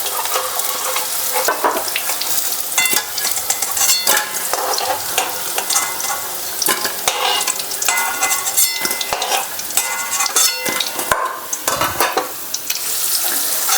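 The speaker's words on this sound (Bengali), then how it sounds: "গরম তেলে আমি এবার পেঁয়াজগুলো দিয়ে দিয়েছি" Thickly cut onions drop into hot oil for crispy chili corn and fry with a loud, steady sizzle, broken by frequent stirring scrapes and clatter throughout, close up and with no talking.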